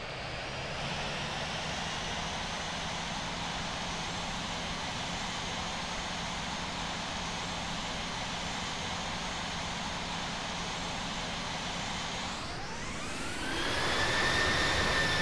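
A jet engine in the Infinite Flight game holds a steady, loud whine and roar, then spools up sharply near the end as the aircraft starts its takeoff, with no talking.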